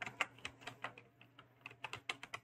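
Rapid, uneven clicks of fingers typing on a computer keyboard, close and fairly quiet, in short bursts with brief pauses over a faint steady low hum.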